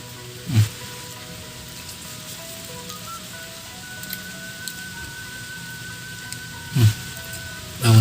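Steady light rain patters softly throughout, with a few brief louder thumps and a faint tonal hum running underneath.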